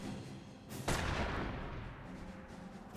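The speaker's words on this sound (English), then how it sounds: "Incendiary mortar there, lighting the AT gun fire." In the World War II strategy game Company of Heroes, an incendiary mortar round lands with a single muffled boom and rolling rumble that fades slowly beneath the battle noise.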